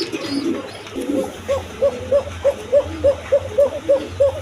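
Pigeons in a farm loft cooing close by, a run of about ten short rhythmic coos following some softer rustling and murmurs.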